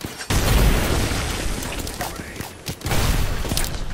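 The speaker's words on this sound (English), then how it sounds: "Oh no, he threw a grenade." A grenade goes off in the battle royale shooter Apex Legends: a loud, dense blast of noise that rumbles on for several seconds, with a brief dip before a second heavy burst, amid chaotic gunfight sounds.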